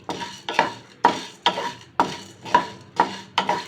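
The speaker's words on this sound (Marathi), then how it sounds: "आता आपली ही काळी मिरी जी आहे ती गॅसच्या लो फ्लेमवरती चांगली भाजून घ्यावी" Black pepper roasting in a little oil in a pan over a low flame, stirred with about eight evenly spaced scraping strokes, each a sharp rattling scrape that fades before the next, close and clear with no voices.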